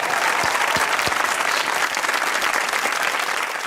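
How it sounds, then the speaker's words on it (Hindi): An audience at a comedy show with Pakistan Army soldiers in Rawalakot claps loudly and continuously, a dense sustained round of applause with no speech over it. "ताली होनी चाहिए कैप्टन अली के लिए"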